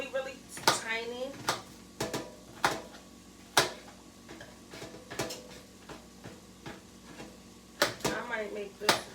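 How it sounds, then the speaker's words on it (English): Knife chopping onions finely on a board, a string of sharp, irregular taps and knocks close by, with someone talking over them at times. "So we cutting these onions tiny, y'all. Really, really tiny."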